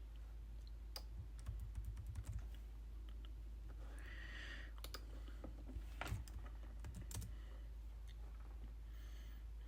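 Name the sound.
typing code on a computer keyboard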